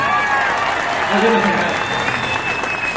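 A large rally crowd claps steadily in a dense, continuous roar of applause, with a voice carrying through over the top.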